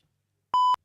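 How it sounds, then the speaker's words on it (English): An electronic buzzer or bleeper gives one short, steady, high-pitched beep that starts and stops sharply after a moment of silence. "That buzzer, that bleeper don't work properly."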